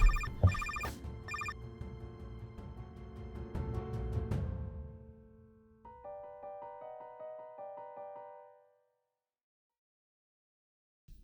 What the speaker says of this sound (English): Do you hear the ringing phone?